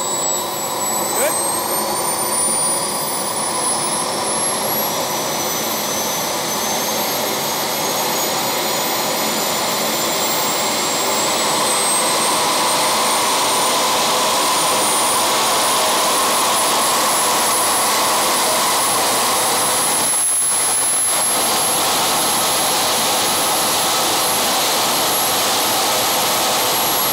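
A BVM 1/5 scale F-16 RC jet's turbine engine spools up steadily toward full power, a loud, continuous roar with a rising high-pitched whine, sustained throughout at close range.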